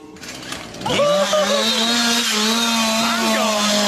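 A chainsaw revs up sharply and then drones steadily at high volume, close and loud, inside a Halloween yard display.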